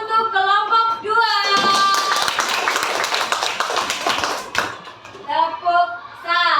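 Elementary school pupils in a classroom give a short burst of loud, dense applause for a student group, rising after a spoken cue and fading out before a voice resumes.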